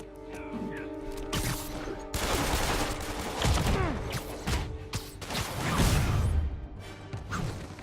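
Gunfire and combat impacts in a Spider-Man video game, loud bursts of shots mixed with crashes and swooshes that come in dense waves over a constant game soundscape, with no voices.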